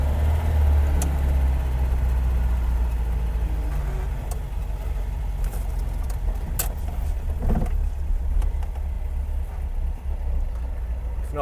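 A 1979 MGB GT being driven, its mid-pitched engine droning steadily from inside the cabin with road rumble, occasional knocks and rattles, and no talking.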